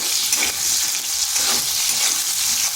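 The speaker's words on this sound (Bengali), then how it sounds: "প্রথমে আলুগুলোকে একটু ভেজে নেব।" Potatoes with a pinch of salt frying in hot oil in a pan, a steady close sizzle running throughout with occasional stirring scrapes and no talk.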